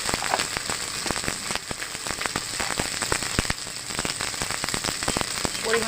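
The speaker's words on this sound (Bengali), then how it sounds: "আদা রসুন বাটা, পেঁয়াজ বাটা। ভালো করে ভেজে নেব।" Ginger, garlic and onion paste fries in a pan with dense, continuous crackling and spitting, steady and close throughout.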